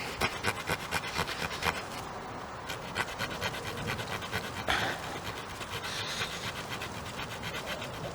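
A small survival-kit hand saw rasps steadily through wood in quick, rhythmic back-and-forth strokes, close up, with no talking.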